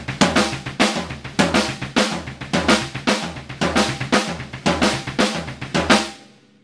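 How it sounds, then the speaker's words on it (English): Drum kit pattern cycling kick drum, snare drum and floor tom, then kick, floor tom and snare, played as a steady, loud, driving groove of dense hits for about six seconds before the final stroke rings out, with no voices. "we would play kick drum, snare drum, floor tom, kick drum, floor tom, snare drum"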